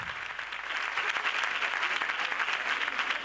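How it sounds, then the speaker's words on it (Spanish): Enthusiastic applause from a crowd at a carnival proclamation event in San Roque, steady and dense clapping filling the space without pause. "Un fuerte aplauso para él, el artífice de este magnífico vestido."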